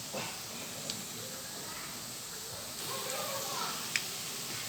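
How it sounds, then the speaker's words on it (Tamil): Boondi batter drops sizzle in hot frying oil with a steady, even hiss throughout, broken by a couple of faint pops. "சலசலப்பு அடங்கணும். அடங்கின பிறகு தான் எடுக்கணும்."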